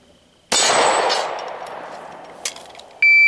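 A single loud, close gunshot rings out with a long decaying echo during a shooting drill at a range, followed about two and a half seconds later by a sharp onset that may be a second shot.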